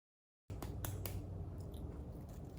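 Crispy homemade potato chips chewed close up, a run of crunchy bites and steady mastication after a brief silence, fairly faint.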